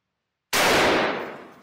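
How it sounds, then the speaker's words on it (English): A single gunshot fired into a block of clay: sudden loud blast after a moment of silence, followed by a broad decaying rumble and hiss that fades over about a second, with no voices. "let's see what happens when I shoot at this clay with a bullet."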